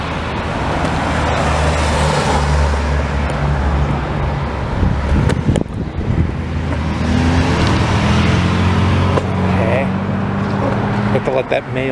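A mail truck drives past on a city street near Sycamore Street in Cincinnati, its steady engine and road rumble blending with surrounding traffic noise, with a person talking over it.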